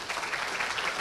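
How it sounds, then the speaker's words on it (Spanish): An audience of young people gives a sustained round of applause at a safety-standards talk, steady clapping from many hands filling the room for about a second. "Vamos a despedir a nuestro expositor con un fuerte aplauso"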